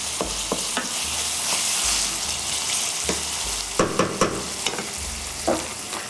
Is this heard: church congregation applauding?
no